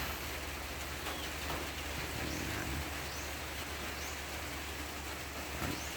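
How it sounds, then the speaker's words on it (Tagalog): Steady rain falls on a wet morning, a dense, even hiss of drops on surfaces that holds at the same level throughout, with no voices. "maulan na umaga"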